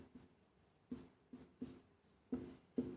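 Chalk or marker strokes on a classroom board, a run of short scratchy bursts in uneven rhythm, several louder strokes toward the end, close by with no talking.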